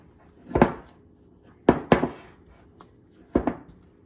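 Bagel dough being turned over on itself by hand in a bowl gives a few separate soft thumps and slaps near the mic, with quiet gaps between them and no talking.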